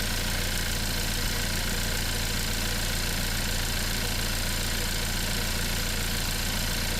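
A car engine runs under the hood with a worn, shaking bearing, giving off a steady, dense mechanical rumble with a low rhythmic knock, close and constant for several seconds.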